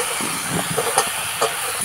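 Chopped ridge gourd and potatoes go into a hot pan of softened onion and tomato, giving a steady broadband frying hiss with a few soft clatters of the pieces landing.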